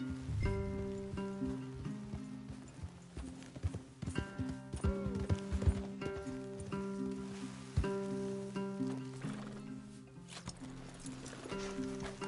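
Horse hooves clip-clop steadily in Red Dead Redemption over a backdrop of layered music and patter like rain, the hoofbeats moderately close and rhythmic throughout.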